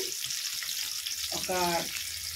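Chopped onion and green chilies fry in hot oil in a pan, a soft steady sizzle with a brief stirring scrape partway through, fairly quiet and close.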